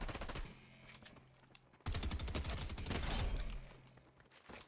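Rapid automatic gunfire as players shoot a boss in a squads shooter game, dense bursts of close, loud shots that pause briefly and then resume more heavily.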